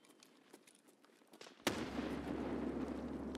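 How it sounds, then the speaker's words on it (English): An M67 fragmentation grenade goes off in Escape From Tarkov: one sharp, loud blast after quieter ambient game sounds, followed by a sustained low rumble and debris-like roar that continues to the end. "Which I'll throw a nade to see if they aggro on me."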